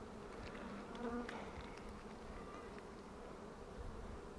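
Honeybees buzz steadily around a heavy, nearly fully capped honey frame lifted from a hive, a dense continuous drone at close range with no voices.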